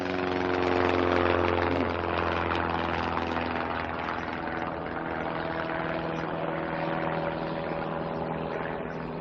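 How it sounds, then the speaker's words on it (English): A propeller airplane towing a banner drones steadily overhead in an animated scene, a loud, continuous engine hum with a constant propeller buzz and no speech. "paying for this airplane banner"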